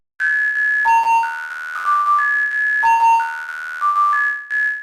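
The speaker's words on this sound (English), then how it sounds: "Lots of nasty aliasing, some weird tones, definitely digital, definitely dirty, definitely nasty, but in quite a nice way" A 90s digital filter sounds steady synthetic tones that step between pitches in a repeating pattern, with bursts of harsh buzzy aliasing overtones at each change, loud and clean against silence.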